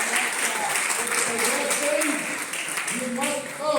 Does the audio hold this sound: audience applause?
yes